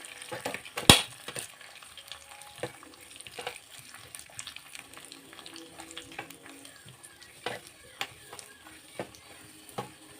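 Vermicelli with cashews frying in ghee for payasam, a soft continuous sizzle punctuated by scattered spoon clicks and one sharp knock against the pan, close and quiet.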